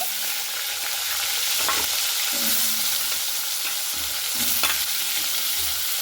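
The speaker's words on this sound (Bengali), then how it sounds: "এরপরে আলুটাকে খুব ভালো মতো করে ভেজে নিতে হবে" Cut potatoes fry in hot oil while a spatula stirs and scrapes them around the pan. A dense, continuous sizzle runs under a few sharper scraping strokes, close and fairly loud.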